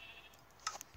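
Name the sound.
sheep bleating in a video game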